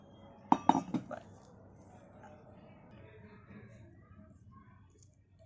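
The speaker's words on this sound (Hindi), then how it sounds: "मैं यहाँ थोड़ा स्पून से कर रही हूँ मिक्स" A spoon clinks a few times against a bowl while onion bhaji batter is mixed, quick sharp taps early on, then a faint scraping under quiet room noise.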